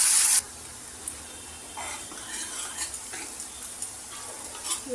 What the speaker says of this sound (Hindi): प्याज लहसुन और हरी मिर्च डालूंगी और इसे फ्राई करूंगी